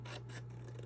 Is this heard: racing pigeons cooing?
no